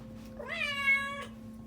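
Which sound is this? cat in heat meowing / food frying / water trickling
cat in heat meowing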